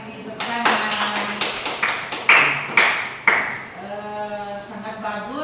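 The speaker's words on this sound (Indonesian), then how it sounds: "Terima kasih, tepuk tangan" A classroom group claps after a student presentation on coding and artificial intelligence, a series of sharp, spaced, rhythmic claps heard close by. Voices speak around the clapping.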